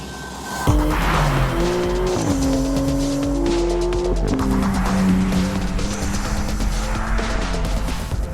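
A Maserati MC20 supercar being driven hard, its engine roaring loud and close as it shifts up through the gears, with tyre squeal running under the engine throughout and no talk.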